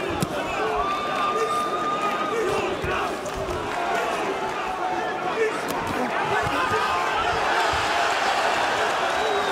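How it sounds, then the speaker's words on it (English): A boxing arena crowd at the Marco Huck vs Krzysztof Glowacki fight roars and chants continuously, with rhythmic shouts and cheers layered throughout and a commentator talking over it. "Crowd reacting to what was just as the Glowacki chants begin again"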